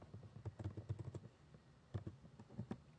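Quick bursts of keystrokes clatter on a computer keyboard on a Mac, soft close taps in uneven runs with short pauses between them.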